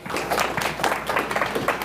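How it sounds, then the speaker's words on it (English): A short burst of applause from a crowd, steady clapping at moderate volume with no voices. "can we have a round of applause for Dan, please?"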